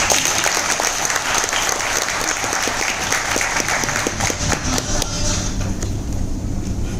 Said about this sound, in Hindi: बाबा के लिए ताली बजनी चाहिए।